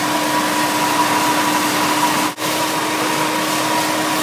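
A waste oil burner fed with used motor oil for melting metal roars with a steady, close, continuous whoosh and a low hum, broken by one very brief dip; no one speaks.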